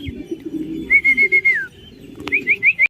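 A racing homer pigeon lands at the loft at the end of a 500 km race, with short chirping whistles in two bursts over a low murmur of background noise.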